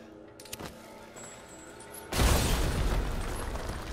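Pipe bomb going off in Resident Evil Village, a sudden heavy boom that follows a few quiet clanks and rolls into a loud, sustained roar of debris and rumble.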